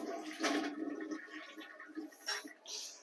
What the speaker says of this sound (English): I'll flush it down the toilet.